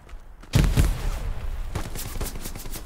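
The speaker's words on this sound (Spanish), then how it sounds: "me disparan por todos lados" Gunfire from the Hell Let Loose video game erupts close and loud, a heavy blast opening a stretch of rapid automatic bursts and scattered shots that keep rattling on.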